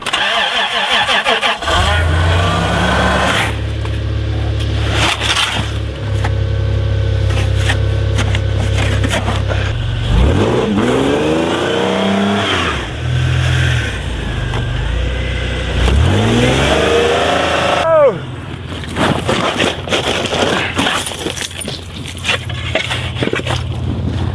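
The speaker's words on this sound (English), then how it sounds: "As they push in unison against the revving engine" A truck engine stuck in snow on a freezing winter night starts and revs repeatedly, rising and falling in loud surges over a continuous rumbling idle, close by.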